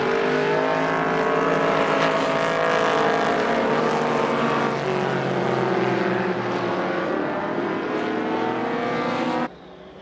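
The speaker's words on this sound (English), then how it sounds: "the horsepower of that Datsun 2000 eats him up on the straightaway" Vintage racing cars at Indianapolis, including a Datsun 2000 and a Lotus Super 7, roar loudly at full throttle, engine notes sweeping in pitch as they pass, before cutting off abruptly near the end.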